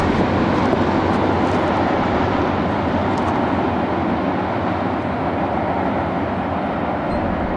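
A CSX freight train rolls past close by, a loud, steady roar of rumbling wheels and rail noise that holds at full strength without letup.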